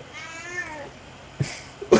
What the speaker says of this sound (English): Dodger, is that a cat? Yeah, so you can hear that?